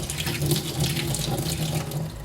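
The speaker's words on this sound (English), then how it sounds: "when I actually try to pour it out, there's not a lot of liquid that comes out compared to the other side" Liquid pours steadily from the draining spout of a Cuisinart non-stick saucepan into a sink, a close, continuous splashing trickle heard alone with no voices.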